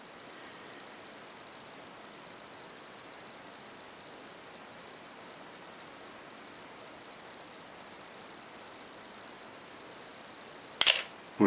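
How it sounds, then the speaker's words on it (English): A Pentax Super Program film camera's self-timer beeps in a steady, evenly spaced series of short high tones, then the shutter fires with a sharp mechanical clack near the end. "It's got self-timer."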